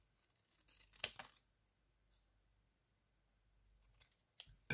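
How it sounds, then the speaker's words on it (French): A pair of scissors snips through black paper for an art trading card, one crisp close cut followed by faint quiet rustles and a second sharp snip at the end, in an otherwise silent room. "On va découper au ciseau."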